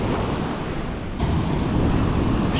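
Rough sea waves wash against the shore during a bluefish spin-fishing outing, a loud, continuous surf roar with wind buffeting the microphone and a brief swell of louder wash.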